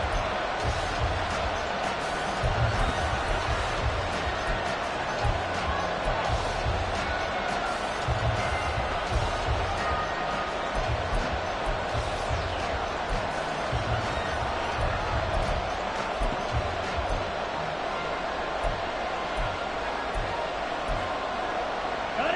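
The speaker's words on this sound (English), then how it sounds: "This crowd doing all they can." Steady, loud football stadium crowd roar during a Ravens game near the goal line, a continuous wash of voices with faint thumps and swells throughout.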